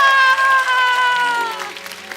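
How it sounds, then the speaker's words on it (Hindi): A studio audience at a comedy show bursts into applause over lingering music tones, the clapping loud and dense at first, then thinning out. "जोरदार तालियां"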